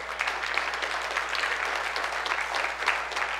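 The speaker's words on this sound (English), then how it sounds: "Give him a round of applause." A church congregation claps in sustained, even applause that fills the room at moderate volume, with no voices standing out.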